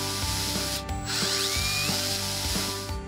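A power drill screwing hemlock boards together for a planter's bottom tier, a steady close mechanical whir with rhythmic ratcheting clicks, the motor pitch sliding briefly midway.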